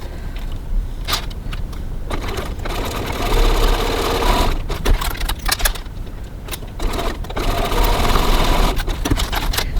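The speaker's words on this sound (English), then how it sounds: "And now we'll go over to the sewing machine and stitch" A sewing machine stitches a cross-body hip bag seam at about 2.4 mm stitch length, running in steady bursts with brief pauses, close and loud throughout with no talking.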